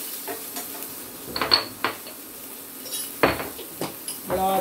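Metal utensils scrape and clink against a pan as food is stirred, with a faint sizzle underneath; bursts of stirring come and go at close range.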